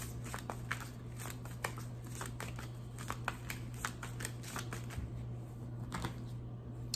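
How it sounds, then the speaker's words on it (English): Tarot cards are shuffled by hand close up, a quick run of crisp riffling snaps and slaps repeating irregularly over a low steady hum. "as I was shuffling"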